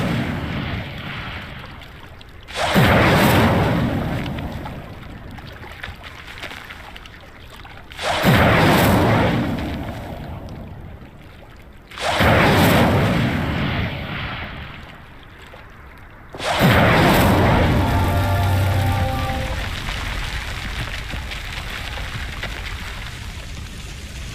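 Incendio fire spell cast four times in Hogwarts Legacy, each a loud whooshing burst of flame that flares and then fades, spaced a few seconds apart, the last blaze crackling on longer.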